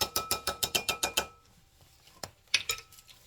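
A metal spoon stirs citric acid solution for a homemade cleaning spray, knocking rapidly against the container in a steady run of about ten clinks, then a pause and a few more scattered taps, close and alone.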